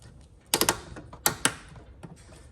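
Two plastic halves of a front strut cap on a 2014-2018 Jeep Cherokee snap together: a quick cluster of sharp clicks, then a second pair of crisp snaps, close and alone.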